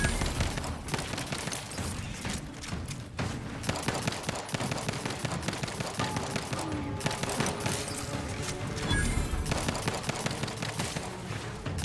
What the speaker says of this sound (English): There's mag dumping.